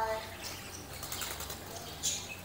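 Caged birds flap their wings in a bird enclosure, producing faint, soft fluttering bursts over a quiet background hum.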